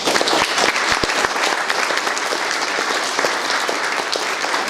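Audience applause at a museum ribbon cutting, a full, steady round of clapping from a gathered crowd, close and sustained with a few sharper claps near the start and no talking.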